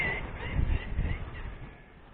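Ducks quack near a tractor in a short, moderately loud burst of calls that fades away, with a low rumble underneath.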